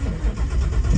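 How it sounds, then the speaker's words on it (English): A salvage-auction car's engine cranks and fires up with the hood open, a close, loud rumbling churn that surges and pulses over a short burst. "Let's pop that hood and start it up."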